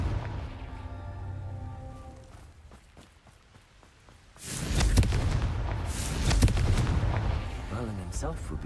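A Confringo blasting spell goes off in Hogwarts Legacy, a sudden loud burst at mid-clip followed by crackling, rumbling debris and scattered impacts, after a quieter stretch with a voice.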